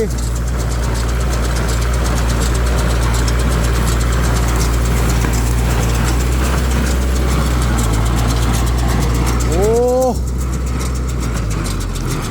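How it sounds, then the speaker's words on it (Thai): A Kubota L5018 tractor idles loudly and steadily near at hand with a deep continuous rumble, working in a rice field in Buriram, while a person speaks over the engine noise. "ขับคูโบต้าเอลห้าศูนย์หนึ่งแปดเอพี"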